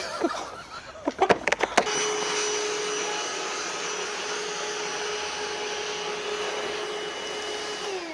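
A vacuum cleaner, used for cleanup during tile work, starts after a few sharp knocks and settles into a steady, loud whine that runs on alone without a break.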